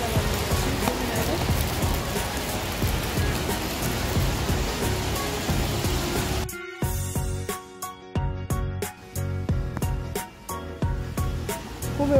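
Rain falls during a rainy-season walk along the Galmaet-gil trail, section 6-1. A dense, steady hiss of downpour suddenly gives way to sharper, irregular drops pattering on a nearby surface, with no talking.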